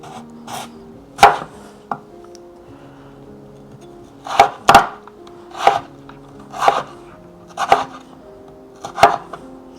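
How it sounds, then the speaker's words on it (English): A knife chops potatoes into fry-shaped strips on a board, with sharp, close, irregular thuds arriving singly and in quick pairs, separated by quiet gaps, and nobody speaking. "Cut it into elongated form, or how should I say, fries form."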